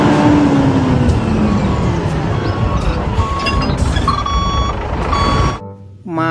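A large toy cement mixer truck sounds loud, repeated reversing beeps over a busy mechanical rumble, and the sound cuts off abruptly near the end.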